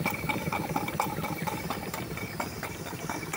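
A steam boat engine runs steadily aboard the boat at a steam gathering in Alt Schwerin, giving a continuous mechanical chug and hiss with faint rhythmic clicks, close and even throughout.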